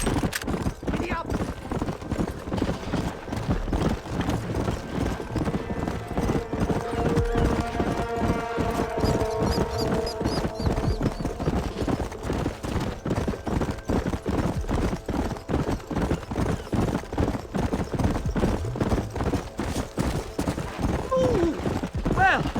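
Horse galloping in the Red Dead Redemption video game, a continuous fast clip-clop of hooves with occasional gunshots, layered under talking voices and background music for the whole stretch.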